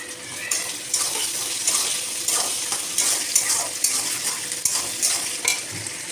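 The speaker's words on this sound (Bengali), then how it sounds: "তো পেঁয়াজটা ভাজতে থাকুক, পরে মশলাটা দেবো তোমাদেরকে ভেজে, তারপর দেবো টমেটো, একটু নাড়াচাড়া করতে হবে।" Onions frying in a pan and being stirred, a continuous bright sizzle broken by regular scraping and clinking strokes of a spoon, close and clear, with no one speaking.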